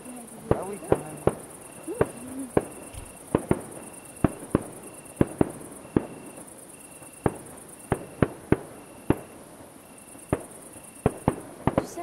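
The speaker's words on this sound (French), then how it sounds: "Non, il allume les fusées." Fireworks rockets are launched at a 14 July celebration, sharp distant bangs and pops popping irregularly over a steady insect-like chirring, with people talking in the background.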